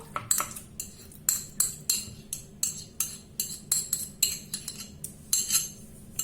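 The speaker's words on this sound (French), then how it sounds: "Je rajoute ma purée de potiron." A small spoon clinks and scrapes against a bowl while pumpkin purée and honey are mixed, a rapid run of light metallic taps, close and fairly quiet, with no talk.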